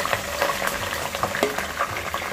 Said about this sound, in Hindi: तेल उछल रहा है